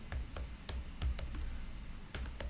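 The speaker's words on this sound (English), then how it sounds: "I'm just going typing everything so that you can have it as notes." Rapid typing on a computer keyboard, close and fairly quiet, with irregular bursts of clicking keystrokes and no talk over them.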